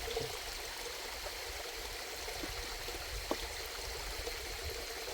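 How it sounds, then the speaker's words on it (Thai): Steady broadband rush of a mountain waterfall flowing outdoors, a constant watery hiss with no speech and only a faint brief knock partway through. "มันเป็นน้ำตกภูเขา"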